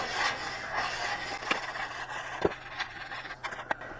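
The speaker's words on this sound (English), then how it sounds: "So I'm going to add my pectin, stirring while you add." Pectin stirred into apricot jam in a pot, with soft scraping and rubbing strokes of a spoon against the pot and a few sharper knocks, near and unaccompanied by talk.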